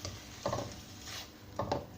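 Noodles and vegetables being stirred in a pan for Chicken Schezwan Noodles, with two quick pairs of scraping, clattering strokes against a low steady background hiss.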